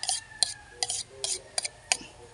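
A utensil stirs and mixes papaya torta batter in a bowl, giving about seven sharp clinking scrapes at an irregular pace, close and moderately loud, with no talk.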